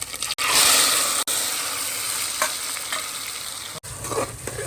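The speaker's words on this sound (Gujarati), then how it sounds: "ત્યાર પછી નાખી દઉં ડાયરેક્ટ ડુંગળી." Onion dropped into hot oil with cumin and ginger-garlic paste in a pan, giving a bright loud sizzle that flares up early, then settles into steady frying with scraping and stirring sounds.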